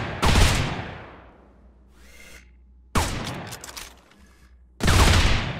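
Submachine gun secondary fire in the sci-fi hero shooter Shadowcore VR: three loud, close bursts of rapid gunfire with sharp onsets and decaying tails, separated by brief quieter gaps.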